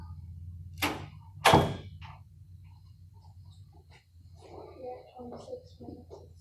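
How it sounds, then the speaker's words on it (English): A door shut twice in an indoor room during a 12-volt LiFePO4 battery load test, two sharp thuds close together early on, followed by faint talk and a quiet background hum. "I'm gonna shut the door here so we can lose some of that feedback."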